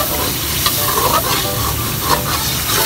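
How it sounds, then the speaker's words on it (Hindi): Dal gosht masala is stirred and roasted in a pan, a steady close sizzle broken by scraping spoon strokes at intervals, with no voices. "उसको अच्छे से भून लेते हैं"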